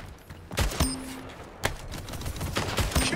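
Gunfire in the arena shooter Splitgate: several sharp, loud shots crack out in quick irregular bursts over a busy game background, with no talking.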